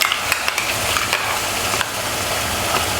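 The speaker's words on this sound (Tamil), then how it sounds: "இது நல்லா கிண்டி விட்டுக்கலாம்." Ground paste stirs and fries in a pan with onions while cooking a paneer ghee roast, a steady dense sizzle with light scraping clicks of the spoon, close and continuous with no talking.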